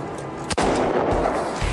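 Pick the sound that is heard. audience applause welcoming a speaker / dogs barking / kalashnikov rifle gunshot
kalashnikov rifle gunshot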